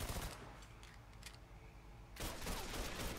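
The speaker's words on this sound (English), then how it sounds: "who's firing at me still?" Gunfire in the video game Mafia 3, a dense, loud burst of rapid shots filling the sound, dropping briefly before another heavy volley resumes.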